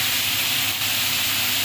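Doves and wild pigeons fry on a flat griddle outdoors at night, giving a loud, steady, continuous sizzling hiss up close with no talk over it.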